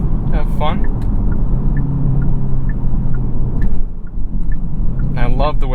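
2022 Genesis G70 3.3T, 8-speed, all-wheel drive, running hard in Sport Plus mode: deep engine rumble rises and falls under road noise, close and loud inside the cabin, with someone talking throughout.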